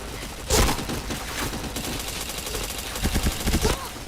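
Gunfire in the online shooter PointBlank, a few sharp bursts of rapid shots with a crackling rattle between them, fairly close and loud against game background noise.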